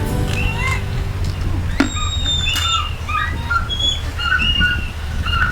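A falcon calls with a series of sharp, high squawks and whistled notes at close range, repeated several times over a low background rumble.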